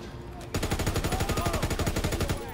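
Sustained rapid automatic gunfire in the Call of Duty WWII video game, a steady loud stream of evenly spaced shots lasting about two seconds after a brief lead-in of game noise.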